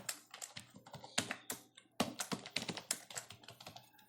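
Rapid key presses on a computer keyboard as a password is entered during an Ubuntu Budgie installation, a close, uneven run of clicky taps with brief pauses and no voices.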